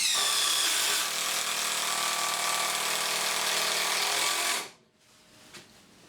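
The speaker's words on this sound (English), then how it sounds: "I'm going to drive them into this piece of 3x2 using the Milwaukee 12V and the Dewalt 18V." A screw is driven into a piece of 3x2 timber by a Milwaukee 12V or DeWalt DCF887 18V brushless impact driver, making a loud whirring, hammering burst for several seconds that then stops abruptly.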